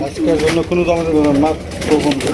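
Pigeons coo in repeated soft, throaty warbles close by, with a person talking over them.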